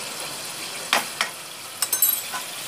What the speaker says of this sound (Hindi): ये जो लहसुन अदरक मैं भून रही हूँ